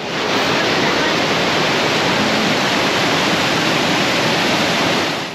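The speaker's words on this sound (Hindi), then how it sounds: "सबसे पहले ये बहती हुई पहाड़ी नदी, ये बड़ा सा झरना" A loud, unbroken roar of rushing water from a large waterfall and fast mountain river heard up close, steady and dense throughout.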